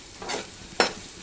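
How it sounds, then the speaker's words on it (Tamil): Onions sautéing in a pan for a goat brain dish, heard as two short bursts of stirring and sizzling, the second sharper and louder, with quiet gaps around them. "வெங்காயத்தை போட்டு நல்லா வதக்கிட்டு"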